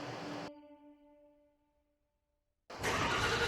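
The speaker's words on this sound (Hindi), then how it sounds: "उसने गाड़ी स्टार्ट की" A car engine cranks and catches at a lonely forest roadside, a broadband burst followed by a steady tonal hum that fades away, then a loud sustained roar of the running engine.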